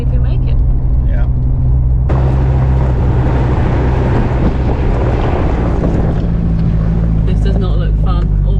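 An overlanding vehicle climbs a steep, rutted, loose mountain track on Mount Meharry in Western Australia, its engine droning low and steady under loud wind buffeting, with a few brief voices.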